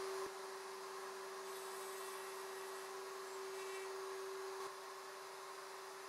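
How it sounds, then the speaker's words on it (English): A router cutting box joints on a Leigh RTJ400 jig produces a steady, faint, high-pitched motor whine with a strong constant tone that holds evenly for about six seconds, with no voices. "Continue routing to complete this end of the boards."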